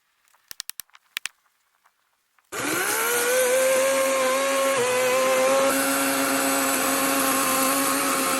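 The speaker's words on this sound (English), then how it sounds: "I cut a pretty good sized chunk out of that big massive root with the chainsaw." Several sharp clicks and pulls come first, then a chainsaw engine roars to life and keeps running at a loud, sustained pitch while cutting into a massive oak stump root.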